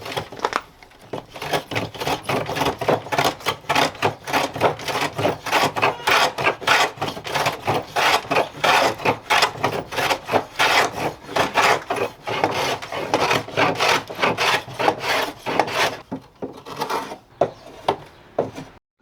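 Hand plane taking shavings off exotic wood in quick, steady back-and-forth strokes, a dense run of rasping swishes, loud and close, with no talk.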